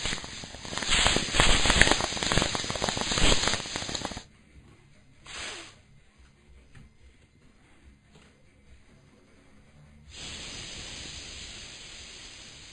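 A bong hit: a loud, bubbling, crackling draw lasting a few seconds, then near-silence broken by a brief soft burst, and later a steady hiss.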